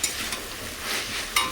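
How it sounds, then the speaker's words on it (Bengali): Leafy greens stir-frying in a pan in a home kitchen, giving a steady, close sizzle with a few louder spatters and stirring scrapes throughout. "শাক ভাজাটা প্রায় হয়েই এসেছে,"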